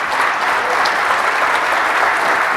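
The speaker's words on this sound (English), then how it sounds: "Give him a super extra warm round of applause" A conference audience in Athens applauds to welcome a Python keynote speaker, a thick, continuous patter of many clapping hands, loud and even for the whole stretch with no voices over it.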